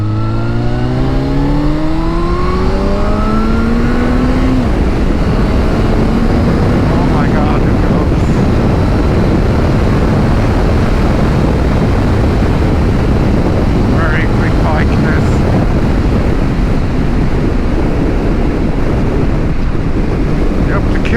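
A Suzuki GSX-R1000 sport motorcycle's engine climbs steadily in pitch as it accelerates, then a loud, constant roar of wind at high speed swamps it for the rest of the ride.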